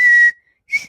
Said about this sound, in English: I learned how to whistle without having to move my mouth.